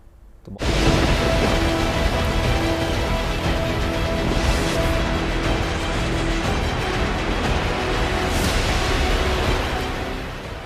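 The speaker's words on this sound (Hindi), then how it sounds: "कभी बेतहाशा गर्मी तो कभी झमाझम बारिश।" Heavy pre-monsoon rain in India pours down in a dense, loud, steady roar, starting abruptly and continuing unbroken for several seconds before easing slightly at the end.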